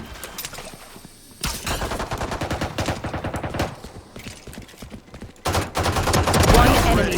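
Rapid handgun gunfire in Valorant, loud bursts of several shots in quick succession with gaps between volleys, mixed with in-game effects and excited voices talking over the action.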